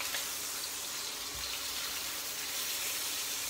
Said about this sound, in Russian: Бекон имеется. Жарится.